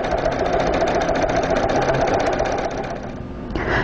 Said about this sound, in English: I'm stitching along the contours that I've stitched previously.